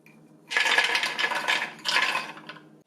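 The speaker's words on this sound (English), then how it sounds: "I'll process these walnuts." KitchenAid food chopper chopping walnuts, a close rattling clatter of nut pieces striking the blade and bowl in two bursts of about a second each, separated by a brief dip.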